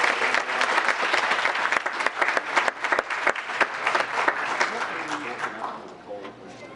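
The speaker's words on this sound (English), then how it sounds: "if you could join me in a great round of applause." Town council meeting audience breaks into a round of applause, a dense, lively clatter of many hands that stays strong for several seconds before tapering off at the end.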